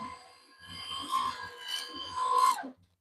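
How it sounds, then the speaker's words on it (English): A Susteas juicer grinding produce, a loud continuous motor whine with a rough grinding rasp that swells and strains, close up and alone before cutting off abruptly. "But you would not hear how loud this juicer is"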